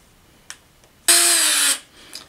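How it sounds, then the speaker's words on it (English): Power screwdriver driving a screw into an LED neon flex connector, one loud, close whir lasting about half a second between faint clicks. "we will put the four screws in place and tighten them"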